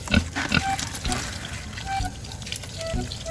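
Pig grunts and snorts mixed with splashing, pouring water as feed is mixed with water, busy and close.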